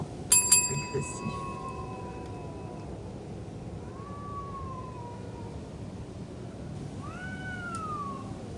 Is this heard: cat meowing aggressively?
yes